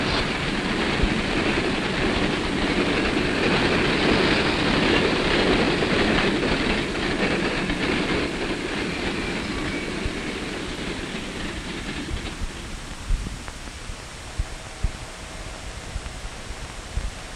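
A train rumbles along a main-line railway track with a steady roar that gradually fades, followed by scattered clicks and clacks of wheels over rail joints.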